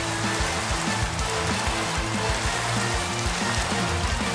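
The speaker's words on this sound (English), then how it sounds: "Oh, he used a rain dance." Rain effect from the Rain Dance move in a Pokémon video game: a steady, loud wash of falling rain with a low, rhythmic musical pattern underneath.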